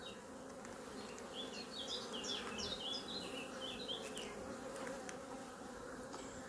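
Honey bees humming around an open hive during a frame inspection, a dense steady drone close by with bird chirps scattered above it.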